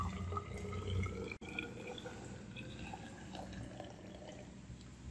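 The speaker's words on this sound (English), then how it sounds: "add some water to my measuring cylinder, just enough water so I can actually cover my irregular shaped object" Water runs into a laboratory measuring cylinder, filling it about halfway to cover a stone, with a steady close trickle and splash and a brief break partway through.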